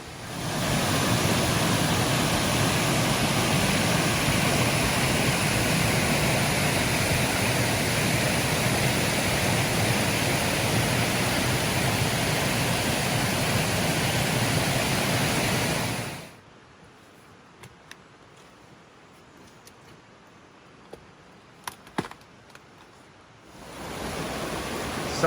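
A creek flows strongly near a waterfall at Mt Field, a loud, steady broadband rush that drops out abruptly for several seconds before the roar returns.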